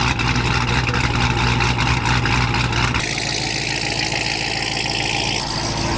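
A car with an aggressive cam idles nearby, a loud, lumpy, uneven rumble with a choppy lope that continues throughout, its tone shifting partway through.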